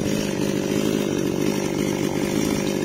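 A chainsaw cuts a huge, rare eucalyptus tree, its engine running loud and steady throughout as it bites into the wood.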